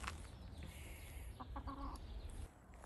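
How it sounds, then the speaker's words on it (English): Chickens clucking softly while pecking at Fig Newtons on a farm, a few short calls over steady outdoor background noise, close by and fairly quiet. "the chickens really like Fig Newtons"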